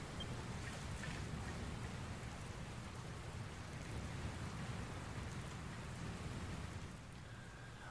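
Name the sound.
rain and storm in Dragon Quest Builders 2 video game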